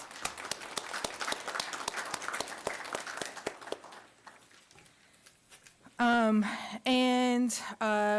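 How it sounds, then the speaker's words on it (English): A small group claps for a few seconds at a town council meeting, the applause thinning out and fading before a voice speaks loudly at the end. "I think that deserves a little bit of a round of applause"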